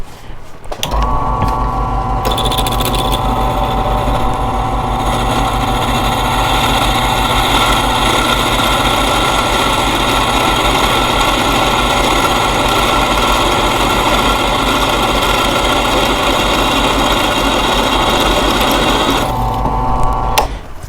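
Drill press running continuously while drilling a hole for a lathe DRO mount, a steady loud motor whine and mechanical hum that starts abruptly, holds for nearly twenty seconds, then winds down.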